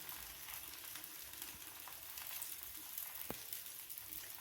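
Rava dosa batter sizzling and frying in oil on a hot pan, a steady close hiss with a few faint crackles and a light tap, no voices.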